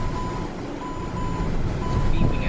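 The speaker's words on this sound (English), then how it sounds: "It's beeping at me. Why is it beeping at me?" A steady, evenly spaced electronic warning beep repeats inside a 2019 Hyundai Tucson over loud engine and road rumble.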